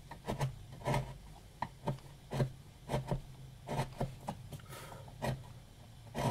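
A wide hand chisel smooths relief cuts on a carved wooden rosette, giving short, soft scraping strokes in an irregular rhythm, close and fairly quiet with no talking.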